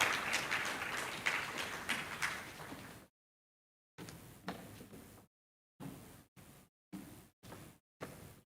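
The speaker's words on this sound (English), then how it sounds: "Please, a round of applause for her." Conference audience clapping for a guest speaker, a few seconds of steady applause that cuts off abruptly, followed by short separated bursts of clapping with silent gaps between them.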